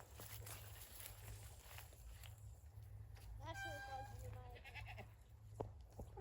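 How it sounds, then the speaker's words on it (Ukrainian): A goat bleats a few times at close range on a farm over a low rumbling background, with some faint background voices. "У нас ще є козочки."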